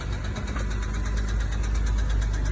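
A Porsche Panamera 3.0 turbo engine idles loudly and close, with a steady rapid knocking from a worn piston skirt running through the rumble.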